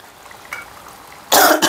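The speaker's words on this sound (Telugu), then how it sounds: "మధ్యలో దగ్గు వస్తే దగ్గండి, పర్లేదు." A single sharp, loud cough bursts out near the end of a quiet indoor moment in a home kitchen, preceded by a faint throat sound.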